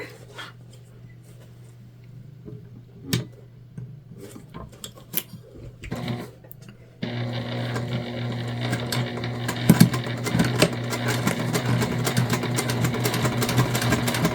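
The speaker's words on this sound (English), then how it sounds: "we're going to sew our sides together" A sewing machine stitching the sides of a tote bag, starting with scattered quiet clicks and handling noises, then a loud continuous whirring run of stitching that lasts to the end.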